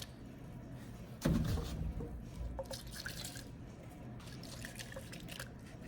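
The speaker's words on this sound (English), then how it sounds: "And we probably need to give that a bit of a rinse." A jar is rinsed with water, with a sudden splash and pour of liquid followed by quieter dripping, trickling and small clinks. The sound is close but low in level, and no one speaks.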